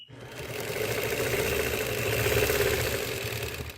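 A quilting sewing machine stitches a line along a ruler hooked onto its foot, a close, fast, even mechanical whir and chatter that starts abruptly and runs steadily throughout, no talk.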